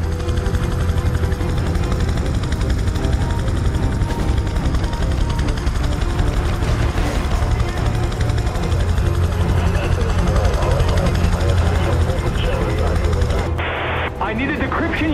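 A helicopter comes in to land on a helipad in Prototype 2, its loud steady rotor drone filling the scene with gunfire-like bursts and talk over it, cutting off abruptly near the end.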